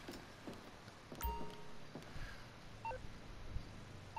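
Phone dialing tones from the video game GTA V Online: a few short electronic beeps scattered over a quiet background with faint rustling, no voices.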